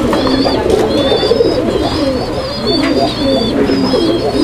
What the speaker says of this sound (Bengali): চমৎকার এক জোড়া কবুতর একদম খুনসুটিতে আছে